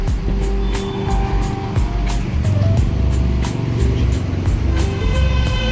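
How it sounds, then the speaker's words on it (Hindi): A car pulls in and parks at a roadside restaurant during a long road trip, its engine a steady close drone with a rhythmic ticking overhead, running continuously with no voices. "गाड़ी लगा देते हैं"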